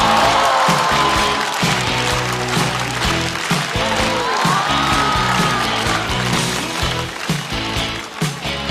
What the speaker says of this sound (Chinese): 掌声欢迎瑞瑞